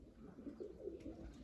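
Pigeons coo softly in a loft, a few low muffled coos close by over a quiet background.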